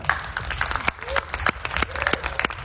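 Scattered clapping from a small crowd at a series launch event, steady and moderately loud, with a voice speaking faintly underneath.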